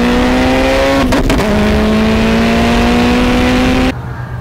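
A Mitsubishi Evo accelerates hard with a loud, close engine note climbing steadily in pitch, a brief shift-like break early on, then cutting off abruptly near the end.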